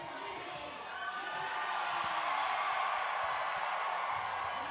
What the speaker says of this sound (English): A huge roar from the crowd.